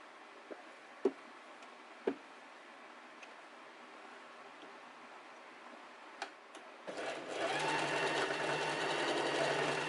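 Sewing machine stitching down the side seam of a summer dress: a few soft ticks and clicks in near quiet, then the motor kicks in near the end with a loud, steady whirring hum.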